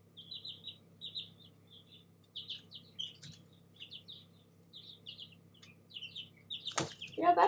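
A pet bird indoors chirps in short repeated bursts of high tweets with small pauses between them, close and moderately loud, with a louder flurry near the end over a low background hum.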